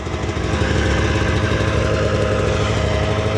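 A 1998 Arctic Cat Z440 fan-cooled twin-carb snowmobile engine idles down, a loud, close, steady two-stroke burble with a rapid pulsing rhythm, running alone without voices.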